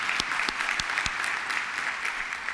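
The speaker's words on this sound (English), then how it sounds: "please give her a round of applause as well for coming here" An audience at a university opening ceremony applauds, a dense steady patter of many hands clapping with a few sharper individual claps near the start, fairly loud and without speech.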